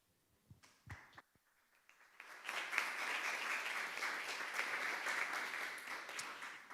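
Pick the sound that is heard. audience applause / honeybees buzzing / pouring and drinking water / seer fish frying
audience applause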